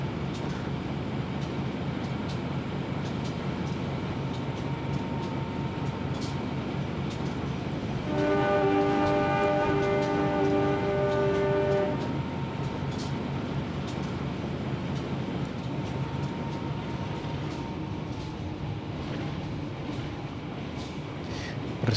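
A passenger train on the Malang–Jakarta Matarmaja run rumbles steadily through a curve in Trainz Simulator, with a loud, sustained horn blast sounding partway through over the continuous rolling noise.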